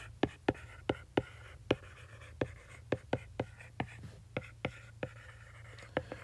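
Pencil or pen scratching across paper in automatic drawing, a series of quick sharp strokes in irregular rhythm, close and quiet over a low steady hum.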